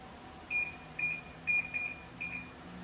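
A kitchen timer beeps in a steady series of five evenly spaced high-pitched pulses, clear and fairly quiet in an otherwise still room.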